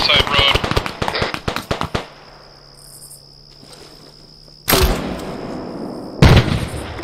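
Arma 3 LMG fire: a rapid close burst of shots at the start, then a quiet stretch with insect-like ambient hum and a distant shot, followed by more loud gunfire near the end. A voice is heard talking.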